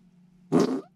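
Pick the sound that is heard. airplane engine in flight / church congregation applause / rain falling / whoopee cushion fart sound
whoopee cushion fart sound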